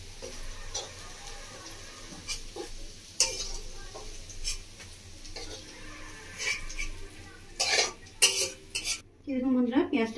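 Lightly fried onions are scooped from a pan with a metal utensil. Sharp clinks and scrapes of metal on the pan repeat irregularly over a faint sizzle, growing louder and busier toward the end.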